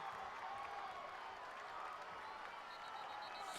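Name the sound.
football game crowd cheering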